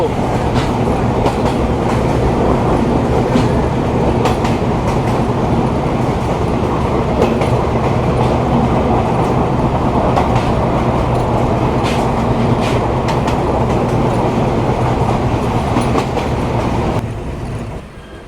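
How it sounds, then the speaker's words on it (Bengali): Benapole Express train heard from on board while running through Navaron railway station at speed, a loud continuous rumble with rhythmic clickety-clack of wheels over rail joints, sustained for the whole stretch before easing slightly at the end. "আমাদের ট্রেন এই মুহূর্তে পার করছে নাভারন রেলওয়ে স্টেশন"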